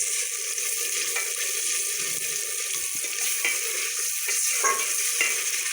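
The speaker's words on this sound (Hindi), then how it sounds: "ये मेरे पास था लहसुन और अदरक का पेस्ट, वो मैंने डाल दिया है।" Steady hissing sizzle of garlic and ginger paste frying in hot ghee, continuous and close, with faint scraping stirs now and then and no talking.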